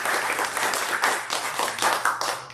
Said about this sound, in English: why don't we give them a round of applause for that?